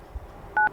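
A telephone keypad button pressed once, giving a short, clear two-tone beep near the end after a faint soft bump, alone with no talking.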